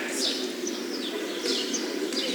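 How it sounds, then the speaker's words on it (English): Bird cooing with a pigeon or dove quality, a few repeated soft calls spaced through a steady background hiss, moderately close and fairly clear. "ain't never heard a bird speak like this"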